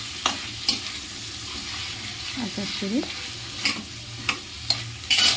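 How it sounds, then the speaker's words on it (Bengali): Garlic fries in a pan for a chicken stew, with a steady sizzle throughout. Sharp spatula scrapes and knocks recur as it is stirred, and a brief bit of speech is heard. "রসুনটা ভাজা হচ্ছে ভাজা হয়ে গেলে"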